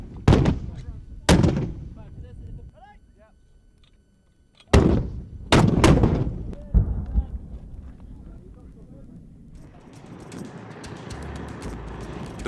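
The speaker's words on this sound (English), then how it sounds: "at the minute we're working with the 81mm mortar, which is our primary indirect fire weapon for our battalion and most infantry regiments" An 81mm infantry mortar fires in several sharp, booming reports, some close together and others spaced apart, each followed by a rolling decay, while someone talks between and under the blasts.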